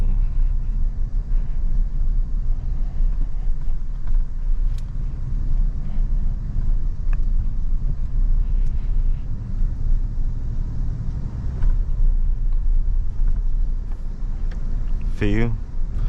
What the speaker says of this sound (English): Now we're about to go over some speed humps.